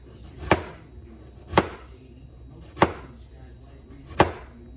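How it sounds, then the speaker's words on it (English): Potatoes cut very thin with a knife on a board, four separate crisp chops at uneven spacing, close and clear with quiet gaps between them. "I'm going to slice my potatoes very thin"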